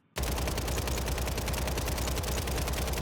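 WSP 9 gun in a video game firing one continuous rapid automatic burst after a brief silence, loud, close and sustained for several seconds with no talking.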